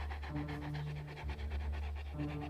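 Large black dog panting in a steady, rapid rhythm of breathy huffs, close up over a low droning background, with no talking.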